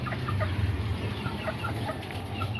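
Chickens cluck steadily in short, scattered calls over constant background noise, sounding like a nearby flock.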